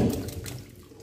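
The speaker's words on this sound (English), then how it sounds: "Going to just pour them in the cool water now to stop the cooking process." Cooked corn pours into a bowl of cool water, a short burst of splashing and sloshing that fades quickly, close and fairly soft.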